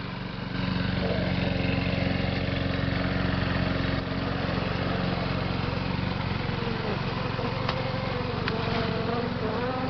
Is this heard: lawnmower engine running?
yes